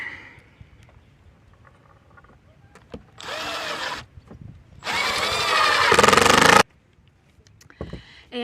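A power drill drives screws into wooden planks for a garden bed, in two loud whirring bursts of about one and two seconds. The motor pitch rises and strains as each screw bites, with quiet handling noise between bursts.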